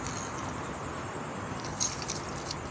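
Keys jangling softly as a charm is attached to a key ring, a steady faint metallic rustle with a few brighter clinks near the end, close to the listener with no talk.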